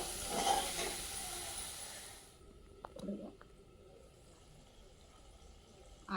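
Gongura prawn curry masala fries in hot oil, giving a steady, bright sizzling hiss for about two seconds before it drops to near quiet with a few faint clinks.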